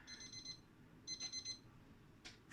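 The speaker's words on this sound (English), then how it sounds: "The alarm went off" A kitchen timer alarm goes off during home baking, sounding two short bursts of rapid high electronic beeping, close and clear, separated by a brief pause, with a faint clatter at the end.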